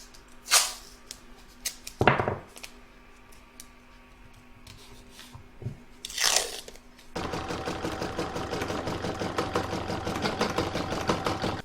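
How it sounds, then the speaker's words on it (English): A sewing machine stitches round two of a poinsettia fabric coaster, running in a fast, steady mechanical whir for several seconds after a few short taps and rustles, close and fairly loud. "I'm going to pop that back in my machine and stitch round number 2"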